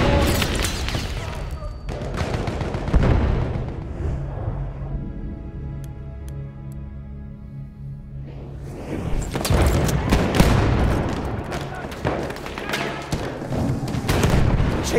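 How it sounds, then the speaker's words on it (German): Battlefield 1 team deathmatch combat: loud grenade blasts and bursts of gunfire fill the clip, with a lull in the middle before heavy firing resumes. "Ich werfe eine Granate."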